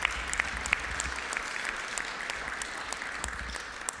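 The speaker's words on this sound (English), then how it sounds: "Big round of applause for Nathan and RJ" Audience applause at a Rotary club meeting, steady hand clapping from a seated room of members, moderately loud and continuous throughout with no talk over it.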